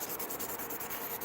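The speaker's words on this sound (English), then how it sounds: "the wet sanding part of it sucks" Wet sanding of slings with 1000 grit sandpaper, a steady close abrasive rubbing with evenly repeated strokes, alone and without talk.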